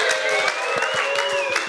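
Live audience at a crypto show giving a final cheer, a steady wash of clapping and cheering that fills the whole stretch at moderate loudness with no clear pauses.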